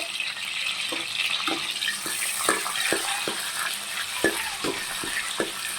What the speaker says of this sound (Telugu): 2 పచ్చిమిర్చి వేసాను